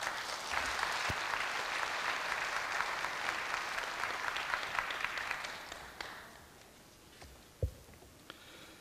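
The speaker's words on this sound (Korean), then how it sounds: "큰 박수로 맞아주시기 바랍니다." Audience applause at a Korea University anniversary ceremony, a broad sustained clapping that fades out after about six seconds, leaving a quiet hall with a few scattered knocks.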